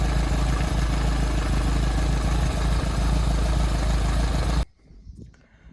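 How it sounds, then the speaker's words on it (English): The engine of a Lotus Elan restomod idles with a steady, even rumble that cuts off abruptly near the end, leaving quiet background noise. "Does sound like a happy little engine."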